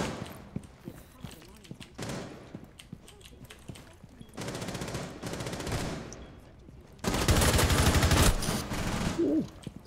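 Bursts of rapid automatic gunfire from an online shooter game, in long loud sustained volleys with scattered single shots between them, under occasional talk from players.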